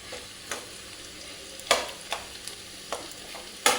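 Taro pieces frying in spices in a pan for a spicy Punjabi arbi sabzi, steady soft sizzle punctuated by several sharp spoon scrapes and knocks against the pan, close and alone without talk.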